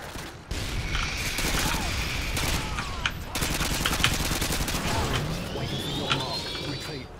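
Gunfire in the video game Modern Warfare 2 on the Rust map, with dense overlapping bursts and sharp reports running through the whole span, one near shot standing out, over a steady backdrop of game noise.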